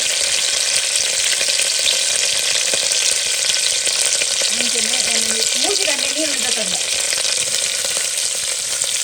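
Onions fry in hot oil inside a pressure cooker, a loud, dense, constant sizzle throughout, with a brief faint voice underneath partway through.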